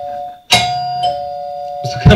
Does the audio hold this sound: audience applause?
no